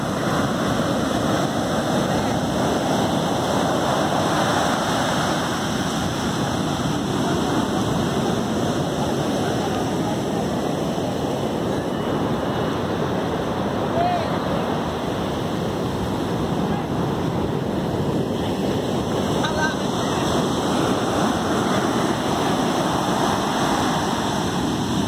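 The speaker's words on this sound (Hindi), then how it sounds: "कलंगुट ये एक खूबसूरत बीच है नॉर्थ गोवा में" Steady surf rolls in at Calangute Beach in North Goa on a July monsoon morning, a continuous wash of breaking waves with wind buffeting the microphone throughout and no voices.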